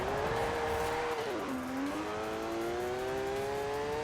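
Car drifting in the racing game Need For Speed Heat, with a steady, loud engine drone that dips in pitch as the tyres skid and slide, running continuously with no talk.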